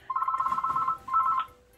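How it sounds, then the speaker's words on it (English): A telephone rings in a room, two clear bursts of a bright electronic trill, the first longer, the second shorter after a brief pause, with no talk over it. "what is that? Phone,"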